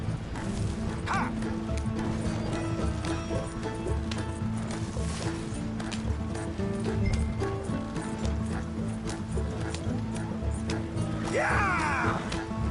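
Horses gallop hard pulling a rattling wagon in Red Dead Redemption 2, rapid hoofbeats over a constant creak and clatter of wheels, with a short whinny near the start and another near the end.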